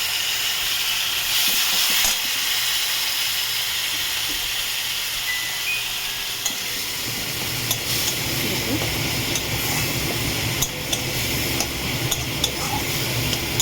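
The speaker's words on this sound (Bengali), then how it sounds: "মশলাটা কষাবো এইভাবে, কষিয়ে ফিরছি।" Chilli, turmeric and cumin powder paste with a splash of water frying in a pan, a steady hiss and sizzle with occasional stirring clinks, rising and thickening partway through.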